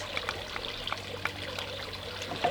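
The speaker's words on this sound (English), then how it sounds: "I'm going to add in some maple syrup" Maple syrup poured into a mixing bowl makes a faint, continuous trickle with small, soft drips scattered through it, close and quiet.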